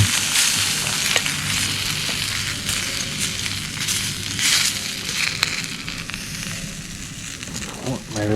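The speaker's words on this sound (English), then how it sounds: "Brat sizzling." Bratwurst sizzles steadily on a small camp cooker outdoors by a river, a dense continuous frying hiss with crackles and occasional stirring clinks, close and fairly loud throughout.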